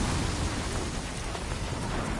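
Dense, constant roar of a heavy rainstorm in the video game Death Stranding 2, with lightning over a dust storm, rain hiss and low rumble filling the whole stretch with no voices.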